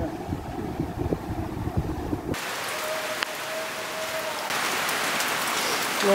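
Steady rain falling on a village the morning after an overnight storm, a dense hiss of drops on surfaces that grows heavier partway through, with a faint low rumble earlier and no voices.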